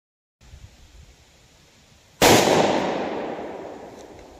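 A single .357 Magnum shot firing a 125-grain Golden Saber bonded jacketed hollow point during ballistic testing: one sharp, loud crack after a low background hiss, with a long decaying tail.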